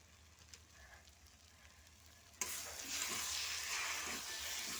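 Chikni greens with shrimp are stirred in a pan as a curry cooks. A quieter hiss gives way to a loud, steady sizzle partway through, with scraping stirs, close and with no talking.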